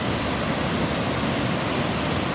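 River current rushes through the collapsed Sta Rita Dam in Lubao, Pampanga, a loud, dense, unbroken roar of churning water filling the whole span without pause.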